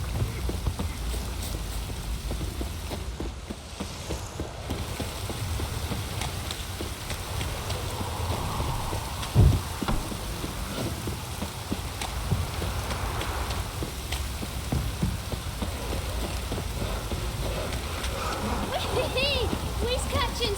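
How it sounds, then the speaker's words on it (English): Light drizzling rain in the fantasy game The Witcher 3, a constant soft patter running steadily throughout, with horse hooves clopping and voices talking over it at times. "Drizzling."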